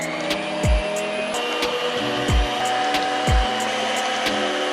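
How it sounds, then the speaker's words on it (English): An electric hand mixer whisks pudding mix and milk in a bowl, giving a steady loud motor whir with a few low thumps as the beaters knock the bowl. "use a whisk and whisk this up really good, or you can use an electric hand mixer"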